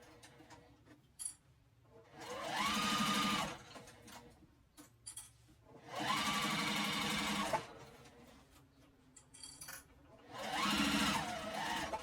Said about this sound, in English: now I'm going to sew the other side on